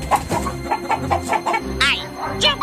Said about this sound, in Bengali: মুরগিগুলো খুব জোরে জোরে ডাকাডাকি করতে শুরু করে।